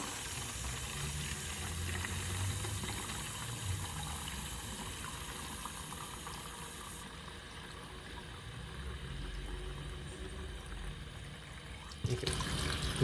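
Tap water runs steadily into a 1 liter bottle, a continuous rushing hiss that slowly shifts in tone as the bottle fills, ending with a brief clunk near the close.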